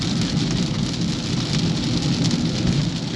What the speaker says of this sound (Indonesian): Hujan lumayan deras nih guys di tol Prambanan,